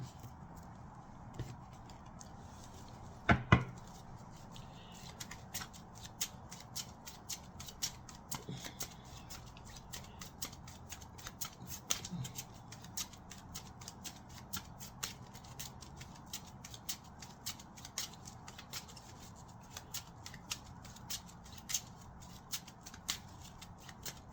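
Tarot cards are handled close up, with quiet repeated riffling, slaps and soft ticks as they are shuffled and set down in a faint, steady run, without speech.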